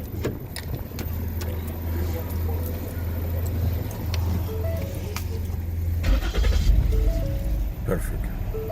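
A 2008–2013 Ford Edge engine cranks over and settles into a steady low idle, heard close up with a person talking over it.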